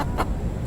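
A wild rooster on a beach gives a single brief, close cluck as it is let go, a short burst over a steady outdoor background.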